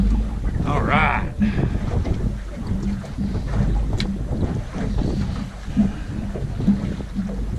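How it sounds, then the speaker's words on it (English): Strong wind buffets a boat while fishing for winter sheepshead in Florida, a constant roaring microphone rumble with gusts, and a voice briefly speaking over it. "Wind blowing like, I mean, no tomorrow, and from a really crappy direction."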